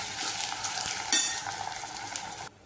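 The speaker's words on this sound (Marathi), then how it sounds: "टॅमॅटो टाकल्यावर पण चांगलं परतायचं." Tomatoes sautéing in a pan for urad dal amti, a bright continuous sizzle with stirring scrapes and light utensil taps, close and loud, cutting off abruptly at the end.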